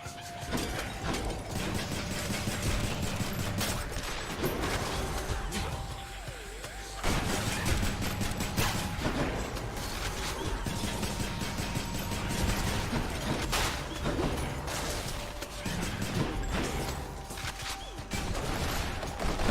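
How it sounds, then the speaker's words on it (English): Rapid shooting at a pillar in the video game Hades, a dense stream of repeated mechanical shots and cracking impacts running continuously over a background music tone, with a brief lull midway. "I was shooting the pillar."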